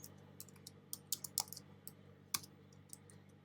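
Typing on a computer keyboard, with a handful of light, uneven key clicks in short bursts, close but quiet, in an otherwise calm room with no talking.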